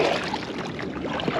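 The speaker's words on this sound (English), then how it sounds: "Paddling is working." Kayak paddling on water near an abandoned sailboat, a brief close splash and swish of the paddle mixed with wind noise over the water.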